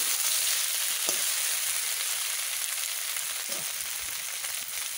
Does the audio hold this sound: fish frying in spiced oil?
yes